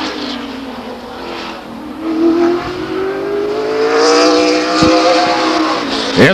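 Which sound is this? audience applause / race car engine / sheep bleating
race car engine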